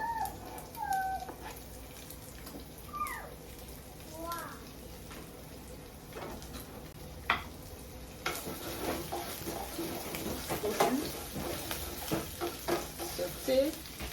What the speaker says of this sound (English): Just gonna add the garlic and the pepper together.